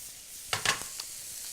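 Whole prawns hit a hot pan and frying begins, a few brief crackling sizzle bursts over a quiet, steady background hiss.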